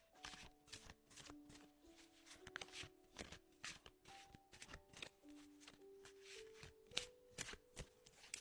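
Tarot cards handled and drawn from a deck make soft, close riffling, snapping and sliding sounds in quick irregular bursts, faint and alone over quiet background music.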